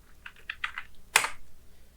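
Keys clatter on a computer keyboard while data is entered into an Excel spreadsheet: a quick run of five or six light taps, then one sharper, louder keystroke, close and alone with no talking.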